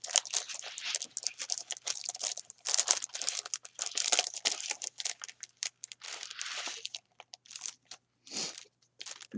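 A plastic package of stickers gets crinkled and handled up close, with irregular crunchy rustles and brief pauses between bursts, fairly quiet overall.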